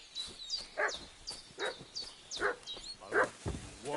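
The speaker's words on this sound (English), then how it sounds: "What's that dog making such a fuss about?" A dog in the video game Kingdom Come: Deliverance 2 keeps barking in quick repeated bursts, fussing nearby, with faint high chirps sounding lightly in the background.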